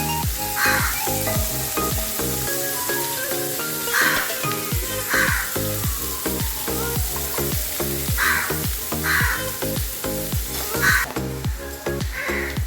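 Chopped onions fry in oil in a pan for kande pohe, giving a steady, loud sizzle throughout, layered over a regular rhythmic pulse in the background.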